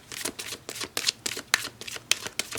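Tarot cards being shuffled by hand at close range, a quick run of crisp riffling bursts about every quarter second, with no talking over them.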